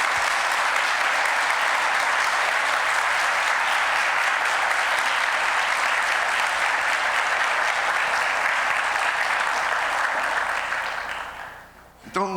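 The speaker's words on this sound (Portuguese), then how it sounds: "vocês devem mais um aplauso para o Farias" Sustained audience applause at an academic physics colloquium, dense and even for about ten seconds, then fading out before a short voice at the very end.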